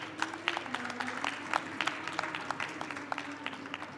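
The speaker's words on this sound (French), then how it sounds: "Je vous propose de les applaudir" Modest applause from an audience at a talk on responsible purchasing, sparse distinct claps over a low steady hum, fairly quiet and even throughout.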